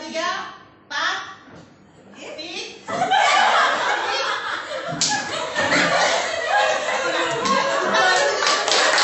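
A group claps along with laughter and chatter, a few sharp bursts at first, then swelling into sustained, loud applause that fills the room.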